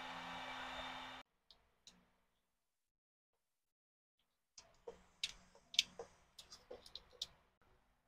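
A heat gun shrinks marine heat shrink tubing over soldered temperature-sending-unit wiring during an LS swap in an OBS Chevy Cheyenne: a steady, close blowing rush for about a second that cuts off, followed by scattered clicks and handling taps.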